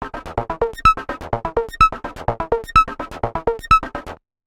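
A bright synth arpeggio pulses in quick, even notes with a gritty, saturated edge, playing alone for a few seconds before stopping abruptly.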